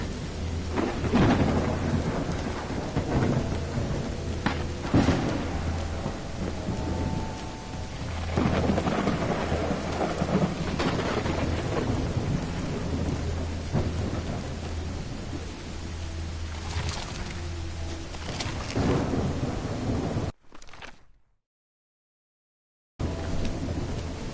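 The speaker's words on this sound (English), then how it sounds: "It's raining cats and dogs here." Heavy, steady rain pours with rumbling thunder rolling through in the video game Call of the Elder Gods, then drops to silence for a couple of seconds near the end before the rain returns.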